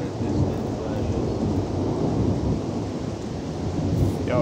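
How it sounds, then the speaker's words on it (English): Deep, continuous rumbling of thunder from a large distant storm near Shehawkin, Pennsylvania, a steady loud roll with no clear breaks and no talk over it. "This must be a really big storm."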